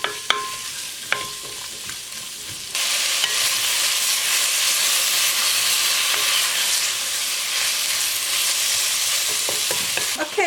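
Onions frying in a pan for butternut squash soup, a loud steady sizzle that surges into a broad hiss partway through, with a few utensil clicks and no talking.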